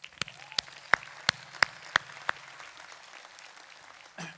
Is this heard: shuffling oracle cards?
no